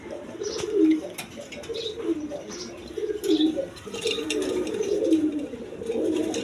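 Pigeons for sale, including red-coloured birds, coo in soft repeated phrases throughout, a low steady murmur of several birds nearby with a few sharper chirps on top.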